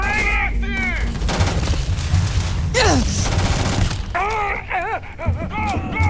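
Rapid gunfire and firefights in the space RPG Starfield, dense bursts of shots mixed with whooshing energy sounds, overlapping shouted voices throughout.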